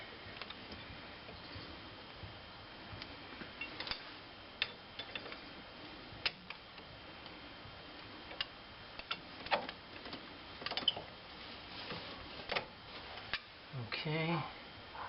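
Rapid mechanical ticking clicks in short bursts from a torque wrench tightening GM front wheel bearing bolts in stages, close and fairly crisp over steady low background noise.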